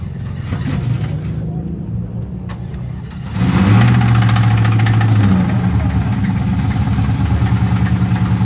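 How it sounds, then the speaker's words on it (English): A 2000 Chevrolet Camaro SS V8 at an auction idles with a rough, uneven rumble and then revs up louder partway through, running steadily close by, with background voices at a crowded auction. "Listen up, 2000 Chevrolet Camaro SS."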